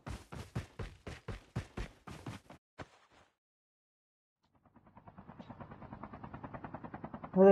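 A helicopter in a battle-royale video game, a rapid thudding rotor chop that grows louder as it closes in overhead, following a burst of loud repeated gunfire and a short silence.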